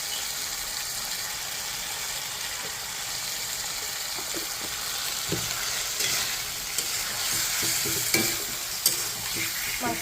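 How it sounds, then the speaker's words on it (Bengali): Meat with turmeric is sautéed and stirred in a pan. A continuous, even sizzle carries a few scattered spatula clinks and scrapes, close and steady throughout. "মাছটাকে ভালোভাবে কষিয়ে রান্না করে নেব"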